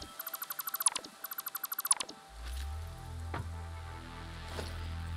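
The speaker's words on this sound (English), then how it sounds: "Yep, that was the sound of running out of power." In the Satisfactory factory-building video game, a power outage triggers a run of rapid, rhythmic electronic chirps in two quick bursts, followed by a low droning hum as machinery winds down, with a few faint clicks.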